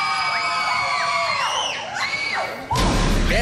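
A studio audience at a Colombian television singing competition shouts and cheers loudly together, with a steady crowd roar that briefly dips and then surges back even louder.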